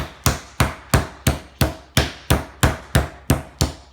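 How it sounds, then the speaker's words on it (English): About a dozen sharp, evenly spaced thuds of a meat mallet pounding chicken breasts thin, steady and close, with no talking. "we're gonna take these and bang them out to get them nice and thin"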